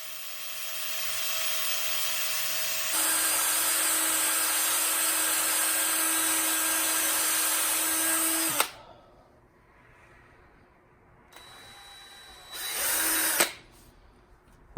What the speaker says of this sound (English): the steel wool to go over the surface of the ring as it's going right to left, left to right